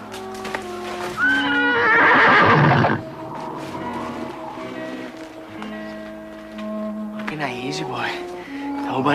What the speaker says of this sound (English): My horse. I must find him.